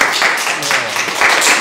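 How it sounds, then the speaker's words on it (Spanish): A studio production crew gives a round of applause during a virtual university sports welcome festival, steady dense clapping that holds for under two seconds at fairly loud level. "otro aplauso"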